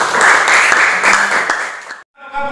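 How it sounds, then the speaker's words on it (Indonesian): Classroom applause from a group of students, a dense burst of clapping lasting about two seconds before cutting off, followed by a brief voice. "Oke, tepuk tangan."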